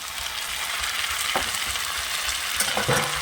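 Loud, continuous sizzling of ground spice paste frying in oil with fried potatoes, with a few scraping stirs of a utensil against the pan.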